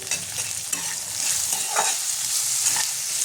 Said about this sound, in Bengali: এটা হালকা ভেজে নেব।